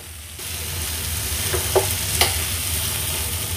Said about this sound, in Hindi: बस इसे अब हम एक क्विक मिक्स देंगे और इसके बाद फ्लेम को ऑफ कर देंगे।